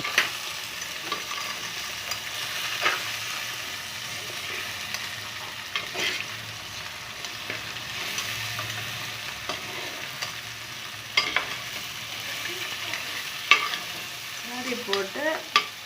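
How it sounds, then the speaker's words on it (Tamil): Crab frying in a pan while being stirred, a soft continuous sizzle broken by scraping stir strokes and scattered clinks, quiet and close, with sharper knocks near the end. "நண்டை சேர்த்துட்டு நல்லா ஒரு கிளறி விடுவோம்."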